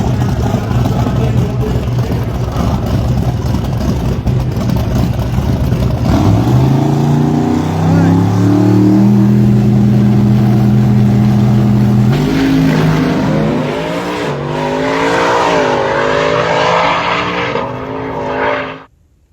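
Plymouth Cuda drag race car at Sick Week 2025, its engine revving loudly and close, rising in pitch through several climbing sweeps over sustained high-volume roar, then cutting off abruptly at the end.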